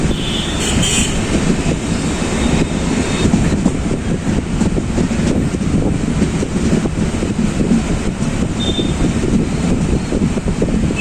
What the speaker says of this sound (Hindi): अपनी जो ट्रेन है अराइव कर चुकी है राजा का सहसपुर जंक्शन पर